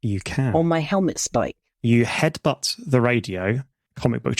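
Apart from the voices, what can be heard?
No everyday noises stand out.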